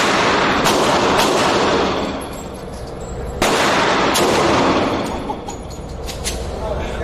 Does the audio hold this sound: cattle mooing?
no